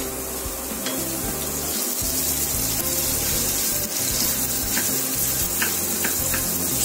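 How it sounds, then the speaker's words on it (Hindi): Onions frying in a pan for a jackfruit sabji, with a steady loud sizzle throughout and a few clicks of a stirring utensil against the pan. "ओनियन भी हमारा थोड़ा थोड़ा फ्राई हो रहा है, अभी और थोड़ा 1-2 मिनट और फ्राई होगा"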